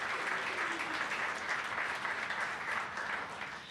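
Steady audience applause fills the room, a dense, continuous wash of many hands clapping at a community coalition gathering, holding even in level before easing slightly at the end.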